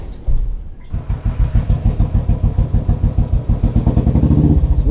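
Royal Enfield motorcycle engine idling alone with a steady, loping thump and mechanical clatter that starts after a brief pause, close and loud.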